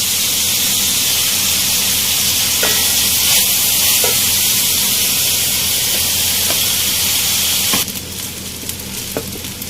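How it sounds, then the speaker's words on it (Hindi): Rice and softened vegetables stir-fry in a hot pan for restaurant-style egg fried rice, a loud continuous sizzle and hiss with scattered spatula scrapes, easing slightly near the end. "हमें चावलों के साथ अपनी वेजिटेबल्स को अच्छी तरह से मिक्स करना है"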